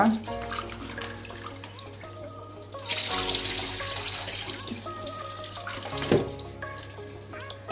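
Tap water runs steadily into a sink while vegetables and coriander are washed for a Godavari-style dum biryani, a continuous splashing that swells louder midway, with people talking over it.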